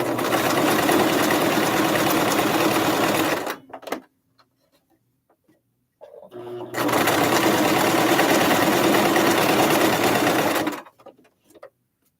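Sewing machine running steadily in two long bursts while stitching fabric for a tufted pillow, loud and close with a quiet pause of fabric handling between runs.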